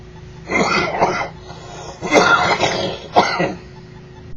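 A smoker coughs and clears a rough throat in three heavy bursts, each a cluster of harsh, wet hacks with short pauses between, close and fairly loud with no talking.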